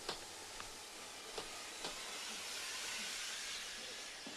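A train pulls away from a station with a broad, steady hiss of steam or air, marked by a few faint clanks early on, the whole sound fairly soft and even.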